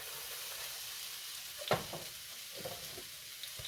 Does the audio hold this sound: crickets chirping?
no